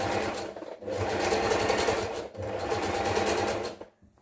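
A sewing machine runs a zigzag stitch in two bursts of close, rapid mechanical chatter separated by a short pause, stopping abruptly at the end.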